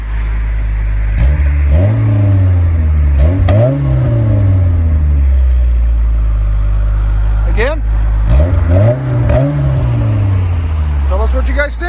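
A 1985 Toyota Corolla AE86 with a twin cam 16-valve engine and HKS cat-back exhaust revs loudly and close in two sets of rising and falling blips over a steady idle, with a person speaking briefly.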